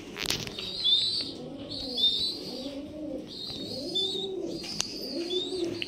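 Pigeons coo in a loft in soft, repeated rolling phrases roughly once a second, with occasional high chirps and a brief wing flutter, close by and without talk.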